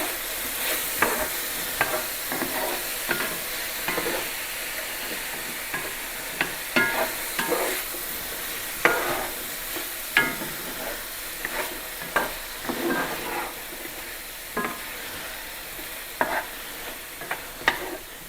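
Garlic paste cooking in a pan for beef bourguignon, a soft continuous sizzle with repeated light stirring scrapes at an irregular rhythm, moderately quiet and close, with no talk.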